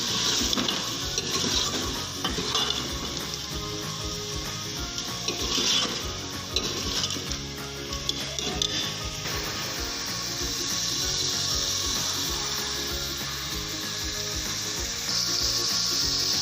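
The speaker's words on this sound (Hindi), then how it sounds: "तो चिकन को भी हम 5 मिनट के लिए भुनेंगे अच्छे तरीके से।" Chicken sizzles and fries with whole spices in a pot, with steady close crackling and occasional stirring scrapes and clinks running throughout, no talking.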